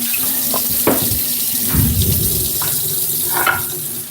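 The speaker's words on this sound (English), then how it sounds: "So we catch some nice cold water" Cold tap water runs steadily into a stainless steel bowl in a kitchen, a continuous splashing rush with a few louder surges and clinks against the metal.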